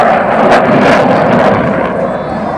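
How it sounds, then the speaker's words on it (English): A Royal Australian Air Force F/A-18 Hornet jet flying a display at the Temora Aviation Museum, its engines giving a loud, steady roar throughout, with no speech over it. "You see the airplane basically does a tail skid there."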